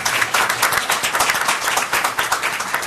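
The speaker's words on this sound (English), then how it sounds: "Round of applause." A council meeting audience claps for a student honoree, steady moderate applause with distinct individual claps, continuous and unaccompanied by speech.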